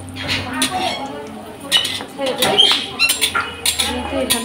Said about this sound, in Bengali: এর মধ্যে কাজু কিশমিশটা দিয়ে দেওয়া হলো, একটু নেড়ে ছেড়ে নেবো